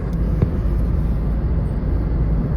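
Army trucks pass on a national highway in Punjab, producing a heavy, continuous low engine rumble that stays loud and close throughout, with one faint click early on.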